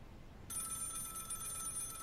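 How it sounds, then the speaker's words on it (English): A telephone starts ringing in a room at night, a sudden electronic bell tone that cuts in after a short quiet moment and keeps sounding steadily and moderately loud. "awoken to the sound of a phone ringing from within his room"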